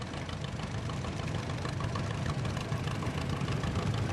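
A 1935 John Deere Model B tractor runs at a Memorial Day tractor show and pull, its engine idling in a steady low chug amid outdoor crowd noise, no voices up close.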